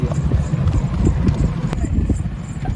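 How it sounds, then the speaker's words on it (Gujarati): A Kathiyawadi mare arriving on foot, her hooves clip-clopping in a steady rhythm on hard ground, close and loud with a voice talking over it. "ઘોડી આવી ગઈ છે"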